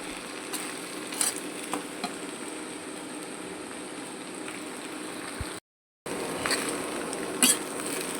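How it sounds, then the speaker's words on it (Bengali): Potatoes and homegrown flat beans frying in a pan, a steady soft sizzle with occasional light stirring clinks, close and continuous apart from a brief cut. "আর একটু ভেজে নেব।"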